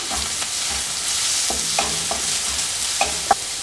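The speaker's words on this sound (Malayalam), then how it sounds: "ഇനി ഇതിലേക്ക് ആദ്യം ചേർത്ത് കൊടുക്കുന്നത് നമ്മളിവിടെ ചതച്ചെടുത്ത വറ്റൽമുളകും ഉള്ളിയും കൂടെയാണ് ഇനി ഇത് നല്ലതുപോലെ ഒന്ന് മൂപ്പിച്ചെടുക്കണം" Crushed dried red chillies and shallots frying in oil: a steady bright sizzle from a nearby pan, punctuated by repeated spatula scrapes and stirring taps at an uneven rhythm, with no speech.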